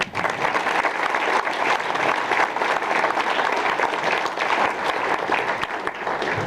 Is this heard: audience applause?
yes